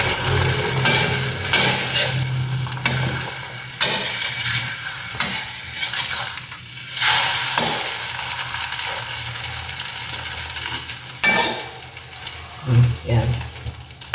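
Scrambled eggs cooking in a smoking-hot pan: a steady, loud sizzle and fry close by, broken by scraping and stirring strokes of a utensil, with a brief voice heard near the end.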